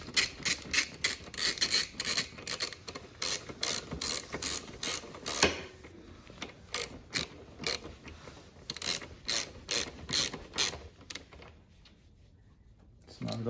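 A ratchet clicks in rapid bursts while snugging the taillight mount bolts on a 2024+ Honda CBR/CB 650R. It sounds close and loud, with short pauses between runs, and a voice talks over parts of it.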